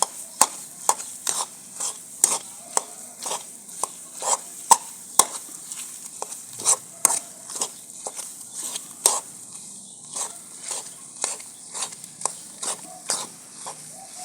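Chopped dates are dry-roasted on a low flame in a pan, with a steady series of sharp scraping and stirring strokes from a utensil. The strokes repeat at a fairly regular rhythm close by.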